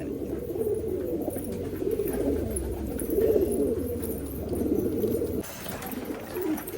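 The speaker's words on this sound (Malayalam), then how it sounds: "പ്രാവുകളെല്ലാം നല്ല ആക്റ്റീവ് ആയിട്ടുണ്ട്" Pigeons cooing steadily in a coop, birds active again after recovering from an illness treated with antibiotics; the soft, low, overlapping coos carry close and continuous throughout.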